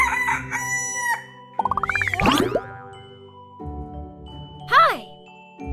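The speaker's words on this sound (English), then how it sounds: "R is for rooster." A cartoon-style rooster crow rings out in a children's alphabet flashcard sequence, one loud, rising call set among bright jingles, boings and a light musical backing.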